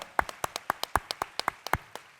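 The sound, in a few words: audience applauding at Comic Con panel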